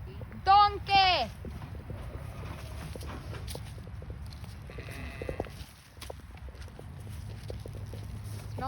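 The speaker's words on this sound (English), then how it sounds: "That's a donkey. Donkey!" A donkey on a farm brays twice in loud, close, rising-and-falling calls near the start, followed by hoof clops, footsteps and shuffling movement, with a few voices nearby.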